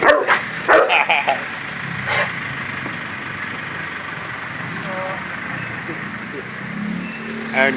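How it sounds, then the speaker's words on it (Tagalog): A big dog lets out a few deep barks at the start, then quieter background activity with a low hum continues, another bark near the end. "Pakalaking aso."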